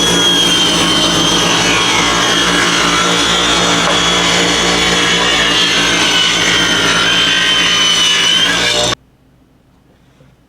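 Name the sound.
sawing wooden boards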